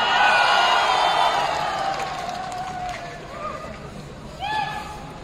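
Crowd of volunteers at a political rally shouting and cheering, a loud dense roar that gradually fades, with a few whoops rising near the end.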